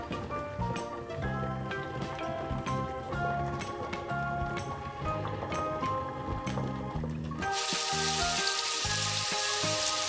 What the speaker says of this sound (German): Das Filet heiß, aber kurz braten. Am besten in geschmacksneutralem, hochwertigen Olivenöl.